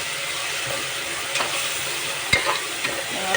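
Ginger, garlic and chili powder frying in oil for biryani, a steady bright hiss of sizzling with a few soft scrapes and one sharp knock of a stirring spoon, close and without talk.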